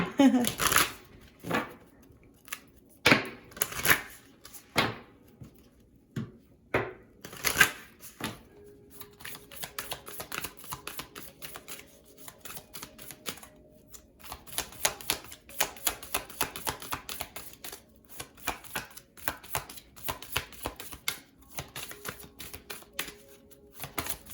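Oracle cards being shuffled in rapid riffling bursts with snappy card flicks, close and fairly quiet, followed by a long stretch of steady soft card handling with occasional faint speech.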